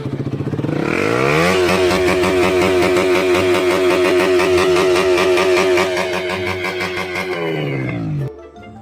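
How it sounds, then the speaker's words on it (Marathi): A motorcycle engine roars loud and close, holding a steady, buzzing rev for several seconds before dropping away abruptly. "तू मस्त मोटरसायकल झिंग बन लावजे"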